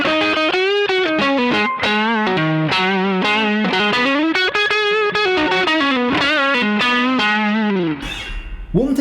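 Electric guitar through a light overdrive pedal plays a bluesy, singing lead line with bends and vibrato, loud and up close, with a short noisy scrape at the very end.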